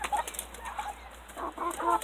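Hens in a muddy farmyard give soft clucks and short calls, a few brief notes scattered over a couple of seconds above a low outdoor background.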